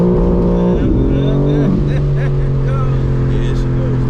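A tuned BMW G82 M4 pulls hard in second gear with traction control off: a loud, steady engine drone climbs in pitch, then holds a strained high tone after a brief dip, heard from close by inside the car.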